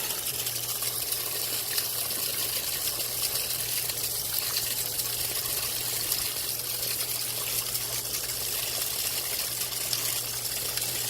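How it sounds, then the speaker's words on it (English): Water gushes steadily from a water line broken by fallen tree limbs at a storm-damaged cabin after Hurricane Michael, a continuous broadband rush with a low steady hum underneath, no voices. "big ass limbs come down and busted my damn water line."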